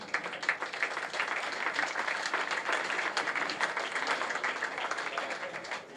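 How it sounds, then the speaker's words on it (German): Sustained applause from a crowd at a fire brigade awards ceremony, dense steady clapping at moderate volume that keeps going without a break, with some background voices mixed in. "Applaus"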